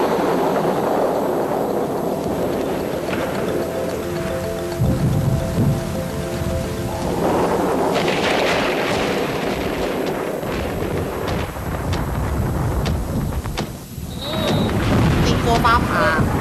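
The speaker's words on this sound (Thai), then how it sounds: "ติโกฟ้าผ่า" Cartoon storm effects with steady rain and a rumbling lightning strike and thunder, continuous and loud throughout, with music and voices mixed in.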